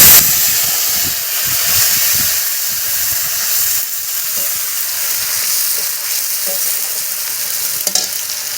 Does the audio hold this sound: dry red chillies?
yes